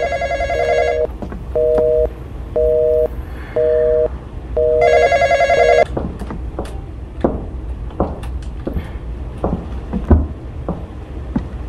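An old-style telephone bell rings in the horror game The Intruder, four loud double bursts followed by a longer ring, then quieter knocks and thumps with no talk.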